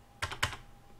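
A pair of crisp computer mouse clicks and a keyboard Ctrl key press sound close and faint, two quick taps in a quiet room.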